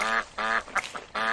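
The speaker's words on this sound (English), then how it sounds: "She saw nine ducks, ducks, ducks, and they said quack, quack, quack." Three loud, nasal duck quacks in a children's counting song, each a short rhythmic burst with a brief gap between them and no other sound.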